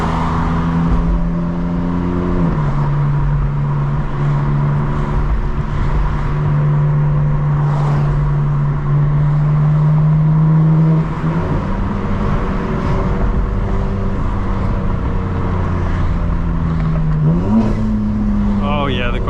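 A 2025 BMW M4 Competition xDrive drives through city streets at night, engine droning loud and close with rising and falling revs and gear shifts, while people talk inside the car.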